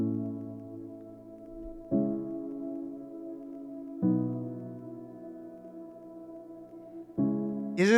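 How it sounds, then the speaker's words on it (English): A sustained mystic synth drone on the tonic sits under a slow chord progression, with four soft, evenly spaced chord changes, each ringing out for about two seconds, the drone holding beneath them throughout. "So I added this mystic drone that's hitting the tonic of the scale."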